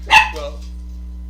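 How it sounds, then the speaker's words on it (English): A single short dog bark, close and fairly loud, over a steady low hum, then quiet. "sorry for the dog."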